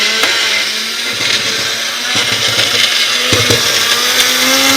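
A blender grinding up a dry mix, a loud continuous motor whir and churning that holds steady for several seconds with brief knocks and pitch shifts as the contents tumble.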